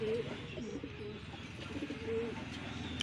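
Racing pigeons coo in low, repeated throaty calls amid a busy, steady background of many birds, with faint chirps scattered throughout.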